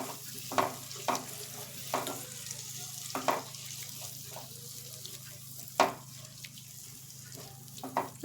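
Leftover roti chow mein gets stirred with turmeric and salt in a pan, a spatula scraping in several distinct strokes over a low, steady sizzle, close and moderately loud with no voices.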